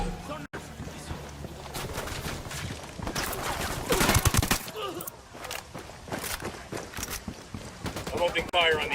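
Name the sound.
gunfire in the video game Ghost Recon Wildlands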